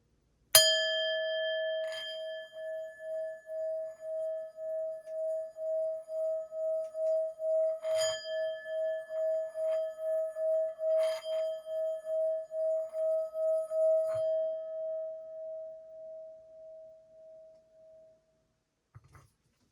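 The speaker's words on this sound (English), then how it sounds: "after I got done ringing the bowl" A singing bowl struck once, then a second strike, the loud sustained ring swelling and beating steadily for about fifteen seconds before fading out, with a few soft taps in between and a brief knock at the end.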